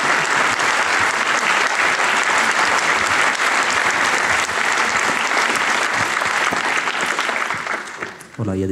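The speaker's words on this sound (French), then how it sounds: "il y a des applaudissements" Audience applause after a talk on defence strategy and geopolitics, dense sustained clapping from a large room that fades out at the end.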